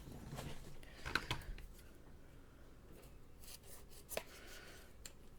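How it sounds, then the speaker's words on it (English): Scissors snip through paper in a few quiet, quick cuts, fussy-cutting a stamped card piece, with faint rustling and handling noises around them; no one speaks. "Let's just cut that bit off because we don't need it."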